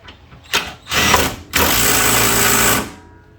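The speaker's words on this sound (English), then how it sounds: "we're going to zap those 4 bolts up" A power wrench drives up four bolts while a 2009 Smart car engine and drivetrain are installed, giving three loud, close bursts of whirring: a short one, a longer one, then a sustained run of over a second.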